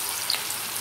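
Skinless chicken legs frying in hot oil give a brief, soft, even sizzle with no voices.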